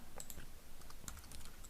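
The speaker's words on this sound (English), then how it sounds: "Now if I start typing, you notice that 200 points is the default now." Fast, steady typing on a computer keyboard, a close run of light plastic key clicks with no voices over it.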